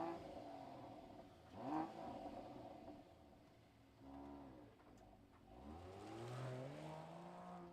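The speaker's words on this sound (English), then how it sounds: "let's fire up this GLE 53 and hear what it sounds like" A 2023 Mercedes-AMG GLE 53 Coupe starting and revving, quiet overall, with rising and falling engine sweeps: a short burst near the start, a softer rev in the middle, then a longer climbing pull toward the end.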